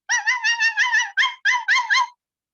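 A rapid string of high, whining puppy whimpers and yips, about eight short cries running together over two seconds, close and clear with nothing behind them, most likely a human voice imitating a puppy.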